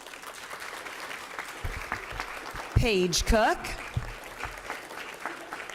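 Board meeting audience clapping for named team members at a village board session, soft scattered applause running underneath a speaker reading out a name, with a louder burst of voice in the middle.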